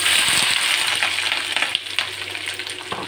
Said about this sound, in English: Heat oil in a pan, then add chopped capsicum.